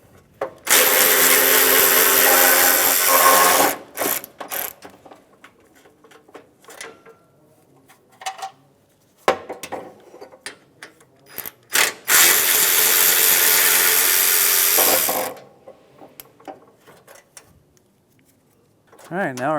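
A ratchet wrench loosens 10mm bolts on a 2007-2013 Acura MDX radiator fan shroud, two loud bursts of rapid clicking lasting a few seconds each, separated by quieter handling clatter, close to the microphone.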